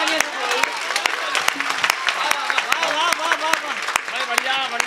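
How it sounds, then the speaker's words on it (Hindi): Scattered, sharp claps from an audience at a poetry recital, with a voice speaking over them throughout. "एक बार जोरदार तालियां।"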